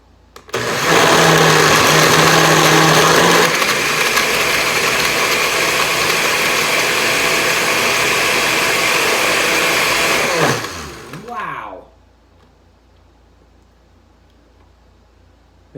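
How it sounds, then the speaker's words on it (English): A blender on its Ice Crush setting, blending a watermelon margarita, roars loudly and steadily for about ten seconds with a grinding whir, then spins down and cuts off, leaving near silence. "This thing was blending so hard it shot one of the buttons off at me."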